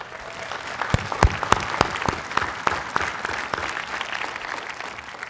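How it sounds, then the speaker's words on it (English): Graduates at an in-person 2021 commencement ceremony applaud, sharp individual claps standing out from a looser, moderately sized crowd, rising quickly then thinning gradually toward the end. "Give yourselves a round of applause for that effort."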